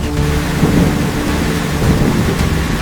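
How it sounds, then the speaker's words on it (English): Heavy cartoon rainstorm with rolling thunder, a dense steady roar of downpour under deep rumbles, loud and close, with no voices. "It's raining heavily."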